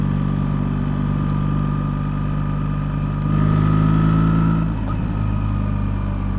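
BMW R1300 GS motorcycle engine while riding: a steady, moderately loud drone with a constant pitch that swells briefly in the middle. No one speaks.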